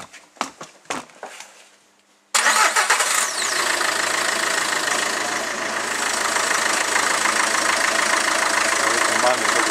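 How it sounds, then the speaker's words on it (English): A vehicle engine cranks and catches after a couple of seconds of clicks and clunks, then settles into a loud, steady idle that runs on continuously; setting is a common rail diesel fuel pressure test. "Now we can start the vehicle and monitor the pressure."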